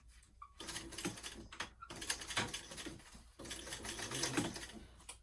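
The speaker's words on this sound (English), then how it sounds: "I'm just going to sew this closed as close to the edge as possible." Sewing machine stitching a weekender travel bag closed through several layers, close and quiet, with rapid mechanical clatter in bursts separated by short pauses.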